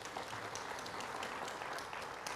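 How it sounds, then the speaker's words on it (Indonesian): A church congregation at a sermon claps steadily throughout a short stretch of faint, somewhat distant applause. "Beri tepuk tangan yang meriah buat Tuhan."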